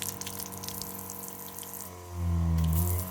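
Hot water runs from a tap in a Mercedes G overland vehicle, fed by a coolant-heated circuit: a steady close gush of flow that swells louder near the end, with no talking.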